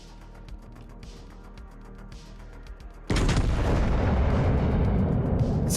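Naval guns roar in World of Warships, with a sudden loud, sustained rumbling barrage that follows a quieter stretch of faint ticking.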